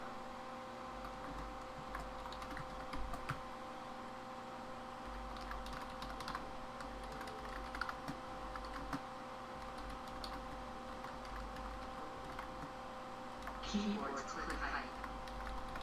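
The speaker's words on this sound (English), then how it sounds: "I type loud. You guys aren't even close to my keyboard." Rapid, fairly loud clacking of keys on a computer keyboard, continuous irregular tapping close by over steady background hum, with a brief sound of someone speaking near the end.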